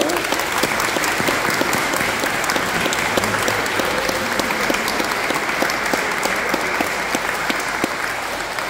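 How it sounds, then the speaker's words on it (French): A crowd at a Saint Hubert Mass and festival in Baisy-Thy applauds children, loud sustained clapping from many people that holds steady throughout without a break. "Donc merci aux enfants, applaudissons-les aussi."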